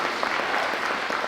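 A conference audience applauds during closing remarks, giving a brief, even burst of many hands clapping at moderate distance without a break.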